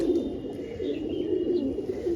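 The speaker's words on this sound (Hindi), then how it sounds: "और ये बाकी कबूतर हैं।" Indian Surkha pigeons cooing steadily in a low, throaty murmur, several birds overlapping continuously, close by with faint chirps in the background.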